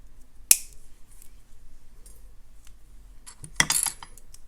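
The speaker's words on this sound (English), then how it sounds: "Once you have your bead crimped, you can go ahead and snip off the tail." Bead wire tail on a crimped gemstone bracelet strand being snipped, with one sharp close click early on and a second cluster of metallic snips and clinks near the end, quiet in between.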